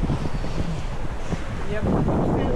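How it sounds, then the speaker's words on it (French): Steady wind of about 17 knots buffeting the microphone on a sailing boat at sea, a loud low rumble throughout with water sloshing faintly beneath. "On a 17 nœuds de vent quand même."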